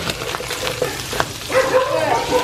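Ground meat sizzles in a pan with garlic, onion and pepper, a crackling fry that swells louder in the second half with some clattering stirring.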